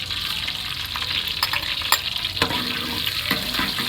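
Whole garam masala spices frying in about two spoons of oil, a steady crackling sizzle with a few sharper pops and stirring scrapes, close and alone.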